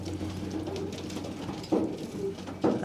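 Racing pigeons coo in soft, repeated low murmurs close by, with a couple of louder flutter-like bursts and a steady background hum.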